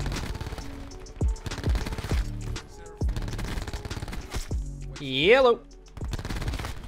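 Rapid SMG bursts in a video game with diamond-camo submachine guns and heavy attachments, several short loud automatic volleys with gaps between them, a player talking briefly.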